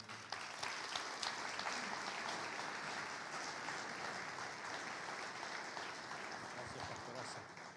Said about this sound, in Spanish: Te recibimos con un fuerte aplauso.